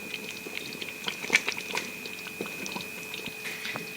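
Mafé peanut sauce simmers in a pot with soft, irregular bubbling pops and crackles, close and gentle over a low steady hiss, no voices.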